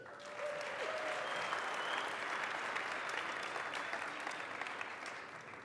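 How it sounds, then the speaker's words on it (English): An audience applauding a coffee chain founder on stage at a business talk, a steady wash of many hands clapping heard from a distance, fairly faint and even throughout, without speech. "Can you give Stephan another round of applause?"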